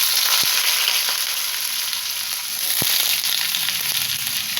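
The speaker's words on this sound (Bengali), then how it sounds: "আর একটু কালো জিরে ফোড়ন দিলাম এটা একটু ভাজা ভাজা হয়ে গেলে আমি এর মধ্যেই আলুগুলো দিয়ে" Nigella seeds and potatoes frying in oil with a dried red chilli, a loud steady sizzle and crackle with a few sharp pops.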